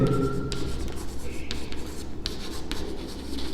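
Pen scratching across paper in a quick, irregular stream of short strokes, fairly close and steady over a low background hum, with no talking.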